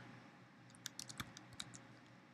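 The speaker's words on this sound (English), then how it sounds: "all we have to do to fix this is just type in" Faint typing on a computer keyboard: a short, quick cluster of light key clicks over a low background hum.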